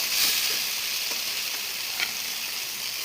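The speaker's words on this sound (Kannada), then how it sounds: "ಪುದೀನ, ಕೊತ್ತಂಬರಿ ಸೊಪ್ಪು ಸ್ವಲ್ಪ ಇದನ್ನು ಹಾಕಿ ಚೆನ್ನಾಗಿ ಫ್ರೈ ಮಾಡ್ಕೊಳ್ಳೋಣ" Tomato frying together with mint and coriander leaves in a pan for a pea, potato and eggplant curry gives a steady, moderately loud sizzle with occasional faint stirring scrapes.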